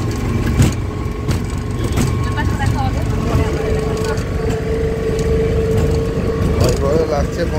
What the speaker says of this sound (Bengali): অটোতে করে যাচ্ছি